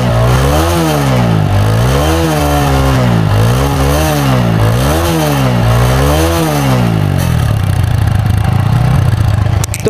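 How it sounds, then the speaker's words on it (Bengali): A TVS Apache RTR 160 4V motorcycle with a dual-barrel exhaust runs close by, its engine revving up and down in repeated rising and falling sweeps before settling into a steady, bassy idle. "সো এখন আমরা বাইকটাকে স্টার্ট করব এবং স্টার্ট করে দেখব"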